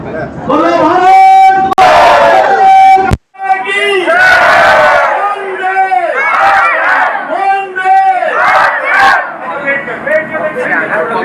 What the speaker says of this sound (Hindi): देखिए आधी भीड़ खचाखच भरी हुई है चौपाल